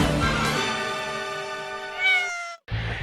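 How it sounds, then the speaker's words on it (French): A cat meows at night with one long, loud, drawn-out wail, close up, followed after a brief pause by the start of another. "qui amènent un chat à miauler la nuit"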